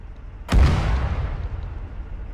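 A single heavy artillery round strikes with a sharp, loud boom in the military shooter Arma 3. A long, low, rumbling tail fades slowly over the next two seconds, over a faint steady background hum.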